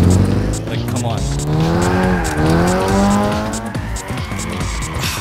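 A Nissan Silvia drifting in Gran Turismo 6: a loud, continuous engine whine rising and falling with revs, layered with steady tire squeal throughout.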